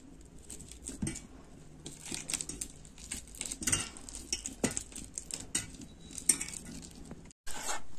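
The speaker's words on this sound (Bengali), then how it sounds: "এবার হাত দিয়ে চটকে নেব কলাগুলোকে" Eight bananas being mashed by hand, giving soft, irregular squelching and pattering with light knocks against a bowl, close and fairly quiet, with no talk.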